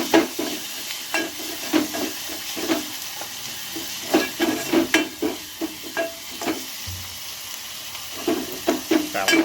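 A spoon stirs sizzling onion, tomato, chili and masala in a frying pan for masala Maggi, with repeated scraping strokes over a steady close fry.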